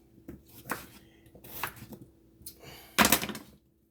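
A knife chopping potatoes into small pieces, several separate cuts landing at uneven intervals, close and fairly quiet, with a heavier cluster of strokes near the end.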